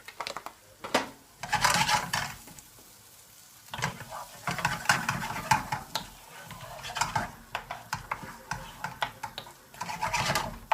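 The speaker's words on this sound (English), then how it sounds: "we're going to add our onions, garlic and oil. That can all go into there and get that cooking away" Onions and garlic with oil cook in melting butter in a pan, stirred with repeated scraping and clinking of a utensil against metal over a light sizzle, in uneven bursts with pauses.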